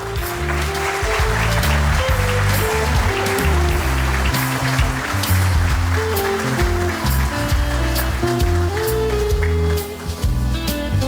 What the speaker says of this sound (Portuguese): Vamos recebê-lo com uma salva de palmas aqui à frente.